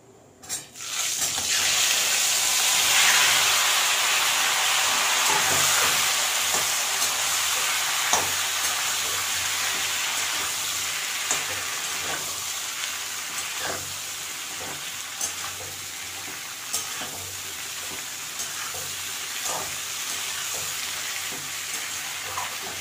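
Mango pieces for a jaggery mango pickle hit a hot pan over a low flame, setting off a loud, steady hiss that fades a little over the long stretch, with occasional faint clicks of a utensil and no talking.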